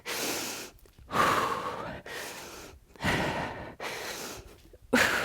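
Forceful breaths during a lower-body HIIT workout: five strong exhales and gasping breaths, roughly one per second, with short silent gaps between them, close and unaccompanied.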